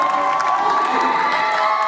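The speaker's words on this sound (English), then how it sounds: "The crowd is on their feet." A high school basketball crowd in a gym roars and cheers after a slam dunk, a loud, sustained wall of shouting and whooping that stays steady throughout.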